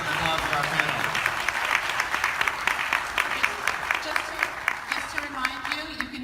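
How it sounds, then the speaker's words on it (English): A conference audience gives a panel on public health cannabis monitoring a round of applause, sustained many-handed clapping over six seconds that fades a little near the end, with a voice faintly under it. "How about a big round of applause for our panel?"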